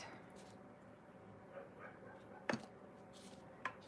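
A dog whines and yips outside, wanting to be let in, with faint intermittent cries and a couple of sharper yelps, distant and quiet against room noise.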